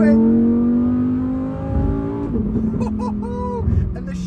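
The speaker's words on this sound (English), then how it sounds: "That V10 engine is absolutely monstrous." A 2023 Lamborghini Huracan Tecnica's V10 engine revs hard, a loud rising howl that drops away as gears shift quickly, then climbs again in bursts; a voice is briefly heard under the engine.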